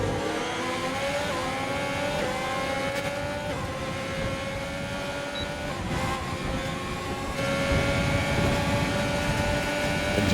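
Formula 1 cars racing in the F1 2020 video game at the Brazilian Grand Prix, with a steady high engine whine that shifts pitch through gears and braking, continuous and fairly loud with no voices.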